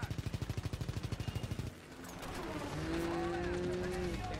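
Aircraft machine-gun fire in the video game Call of Duty WW2, set in the Battle of the Bulge: a rapid, even stream of loud shots that stops abruptly and gives way to a steady engine drone with shouting voices.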